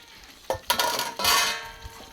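Chicken with sautéed garlic and potato gets tossed into a pan, producing several short bursts of sizzling and spatula scraping against the metal, near and uneven over about two seconds.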